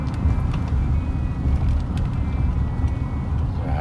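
Steady low road rumble from inside a moving car, with continuous tyre and engine noise close by and faint brief clicks, no speech.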